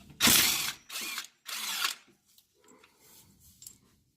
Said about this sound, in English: You're going to need to remove two 17 millimeter bolts that are holding the caliper.